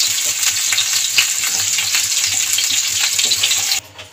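Broccoli fries in hot oil in a pan, a loud, close, continuous sizzle with faint stirring scrapes, cutting off abruptly near the end, with no voices.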